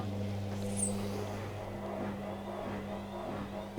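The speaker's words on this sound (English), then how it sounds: "if I put one wet towel into the machine and put it on a spin cycle" A washing machine runs a spin cycle holding a single wet towel, a steady low hum and drone from the unbalanced drum with a faint rumble and no voices.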